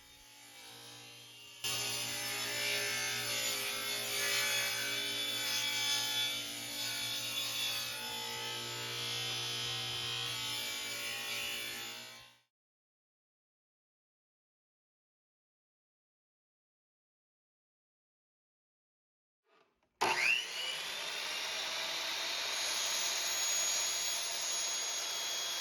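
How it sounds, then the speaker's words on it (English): A power tool cuts a deep L-shaped rabbet into a piece of wood for an upcycled mid-century modern gooseneck desk lamp, giving a loud steady whine of about ten seconds that stops abruptly, then after silence a second cutting pass begins. "The next step was to cut a very large rabbet out of the piece of wood"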